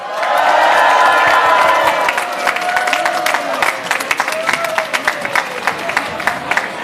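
Large crowd applauding and cheering loudly at a mayor's Asian Pacific American Heritage Month evening reception, a dense wash of clapping and whoops that thins into scattered claps and shouts.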